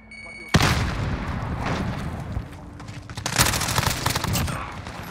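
A frag grenade blast and rapid gunfire in the video game Modern Warfare, with an MP5 in play: a sharp, loud explosion early on, followed by sustained bursts of shots and a second heavy volley, with voices mixed in.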